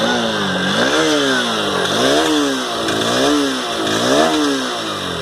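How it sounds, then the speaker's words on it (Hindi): A Honda Hornet 2.0 Repsol Edition motorcycle revs repeatedly, its exhaust note rising and falling in roughly one-second swells over a continuous loud engine drone, heard up close with no talking. "चलिए अब इसका जो एग्जॉस्ट नोट है वो भी एक बार सुन लेते हैं।"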